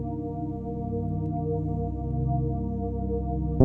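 A bass plays minor seventh chord ideas over a soft sustained pad, forming a steady, mellow, low-pitched bed with gently shifting notes throughout and no talking.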